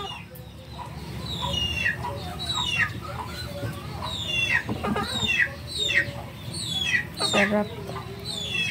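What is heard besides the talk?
native chicken clucking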